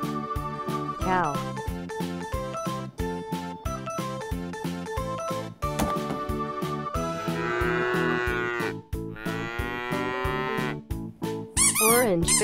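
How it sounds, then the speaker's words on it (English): A toy cow plays electronic mooing and farm-animal sounds over a bright, repetitive jingly music loop, close and loud, with several drawn-out moo calls through the middle and a squeaky flourish at the end. "Cow."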